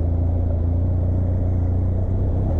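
A loaded Benelli TRK 502 X motorcycle carrying a pillion pulls away on a steep national road, its engine giving a steady, close, loud low rumble under gentle clutch and throttle.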